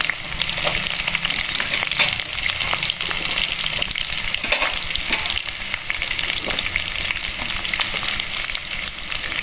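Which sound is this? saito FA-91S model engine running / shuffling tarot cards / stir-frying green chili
stir-frying green chili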